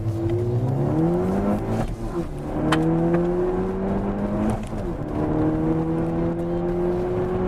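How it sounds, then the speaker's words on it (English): A 2013 Ford Focus ST engine revs hard in first gear through rising pitch sweeps, with shifts between surges and a sustained growl, loud and close from inside the car. "Let's get a little first gear rip just to see how she does."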